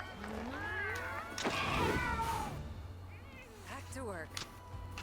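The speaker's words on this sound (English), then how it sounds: "Kitty. Feline. Meow meow." A cat-like monster in Monster Hunter Rise gives several wavering meows and yowls, some rising and falling in pitch, while a person talks over them.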